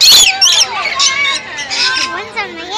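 Lorikeets chirp and squawk in sharp, high bursts during a hands-on bird encounter at the Kansas City Zoo in Missouri, close by and mixed with steady chatter from people talking.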